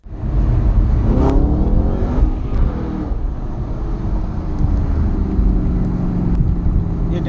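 A Shelby GT500 launches hard and rips through first and second gear, its engine roaring loud and close with rising revs and a brief shift break before pulling steadily on.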